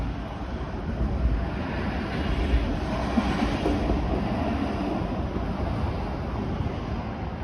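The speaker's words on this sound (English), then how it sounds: "And there goes an eastbound 505 Dundas streetcar." Eastbound 505 Dundas streetcar passing on a Toronto street, a steady rail rumble with occasional clunks over the track, heard at moderate distance amid city background.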